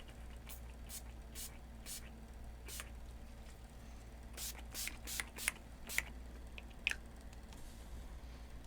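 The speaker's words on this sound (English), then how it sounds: "I will spray my face down." Short bursts of a handheld spray bottle misting water onto a face, several quick pumps spaced irregularly, close and fairly quiet over a low room hum.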